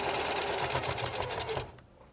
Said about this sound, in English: And then I just continue to sew along the side here.